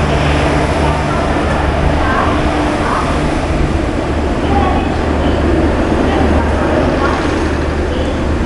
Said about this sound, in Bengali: 4 নম্বর প্ল্যাটফর্মে পুরী শালিমার এক্সপ্রেস ঢুকবে।